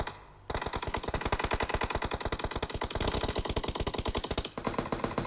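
Rapid automatic gunfire in a competitive team shooter video game rattles in a long, fast, steady burst of evenly spaced shots, loud and alone, after a quiet start.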